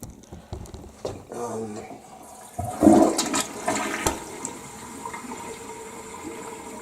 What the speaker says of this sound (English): So let me do one more flush so you can see what this looks like.